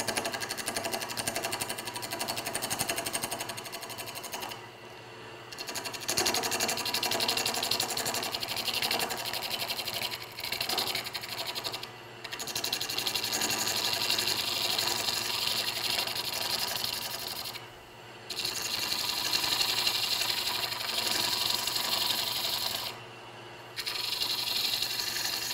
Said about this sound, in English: I'm just going to take my gouge and very lightly smooth that surface off and make it round.